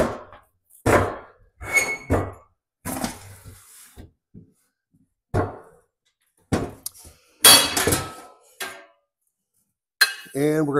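Metal parts of an Agri-Fab 42-inch lawn sweeper clink, clank and squeak in separate short bursts as the sweeper is flipped over, close and loud, with quiet gaps between the bursts.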